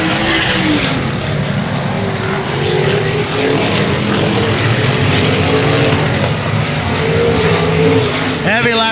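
Race cars lap a dirt speedway under heavy lapped traffic, their engines a steady, loud, dense roar throughout, with an announcer calling the race over the noise.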